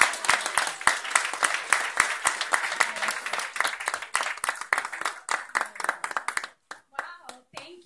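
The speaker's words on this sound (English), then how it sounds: "Miss Priscilla Tavares, let's give her a hand clap." Audience at a clergy council fellowship dinner breaking into applause, a dense sustained burst of many hands clapping, close and loud, thinning to a few scattered claps at the end, with a voice speaking briefly as it fades.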